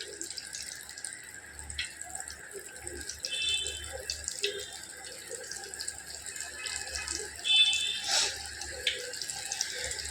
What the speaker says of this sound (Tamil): இப்போ நல்லா பொரிய ஆரம்பிச்சிருச்சு